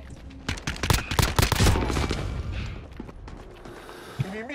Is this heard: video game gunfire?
yes